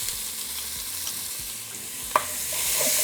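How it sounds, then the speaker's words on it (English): Onion sizzling in oil in a pot for a pot roast, a steady close hiss with one sharp knock of a utensil, and the frying swells louder toward the end, no voices. "Okay, so now we're going to add our onion."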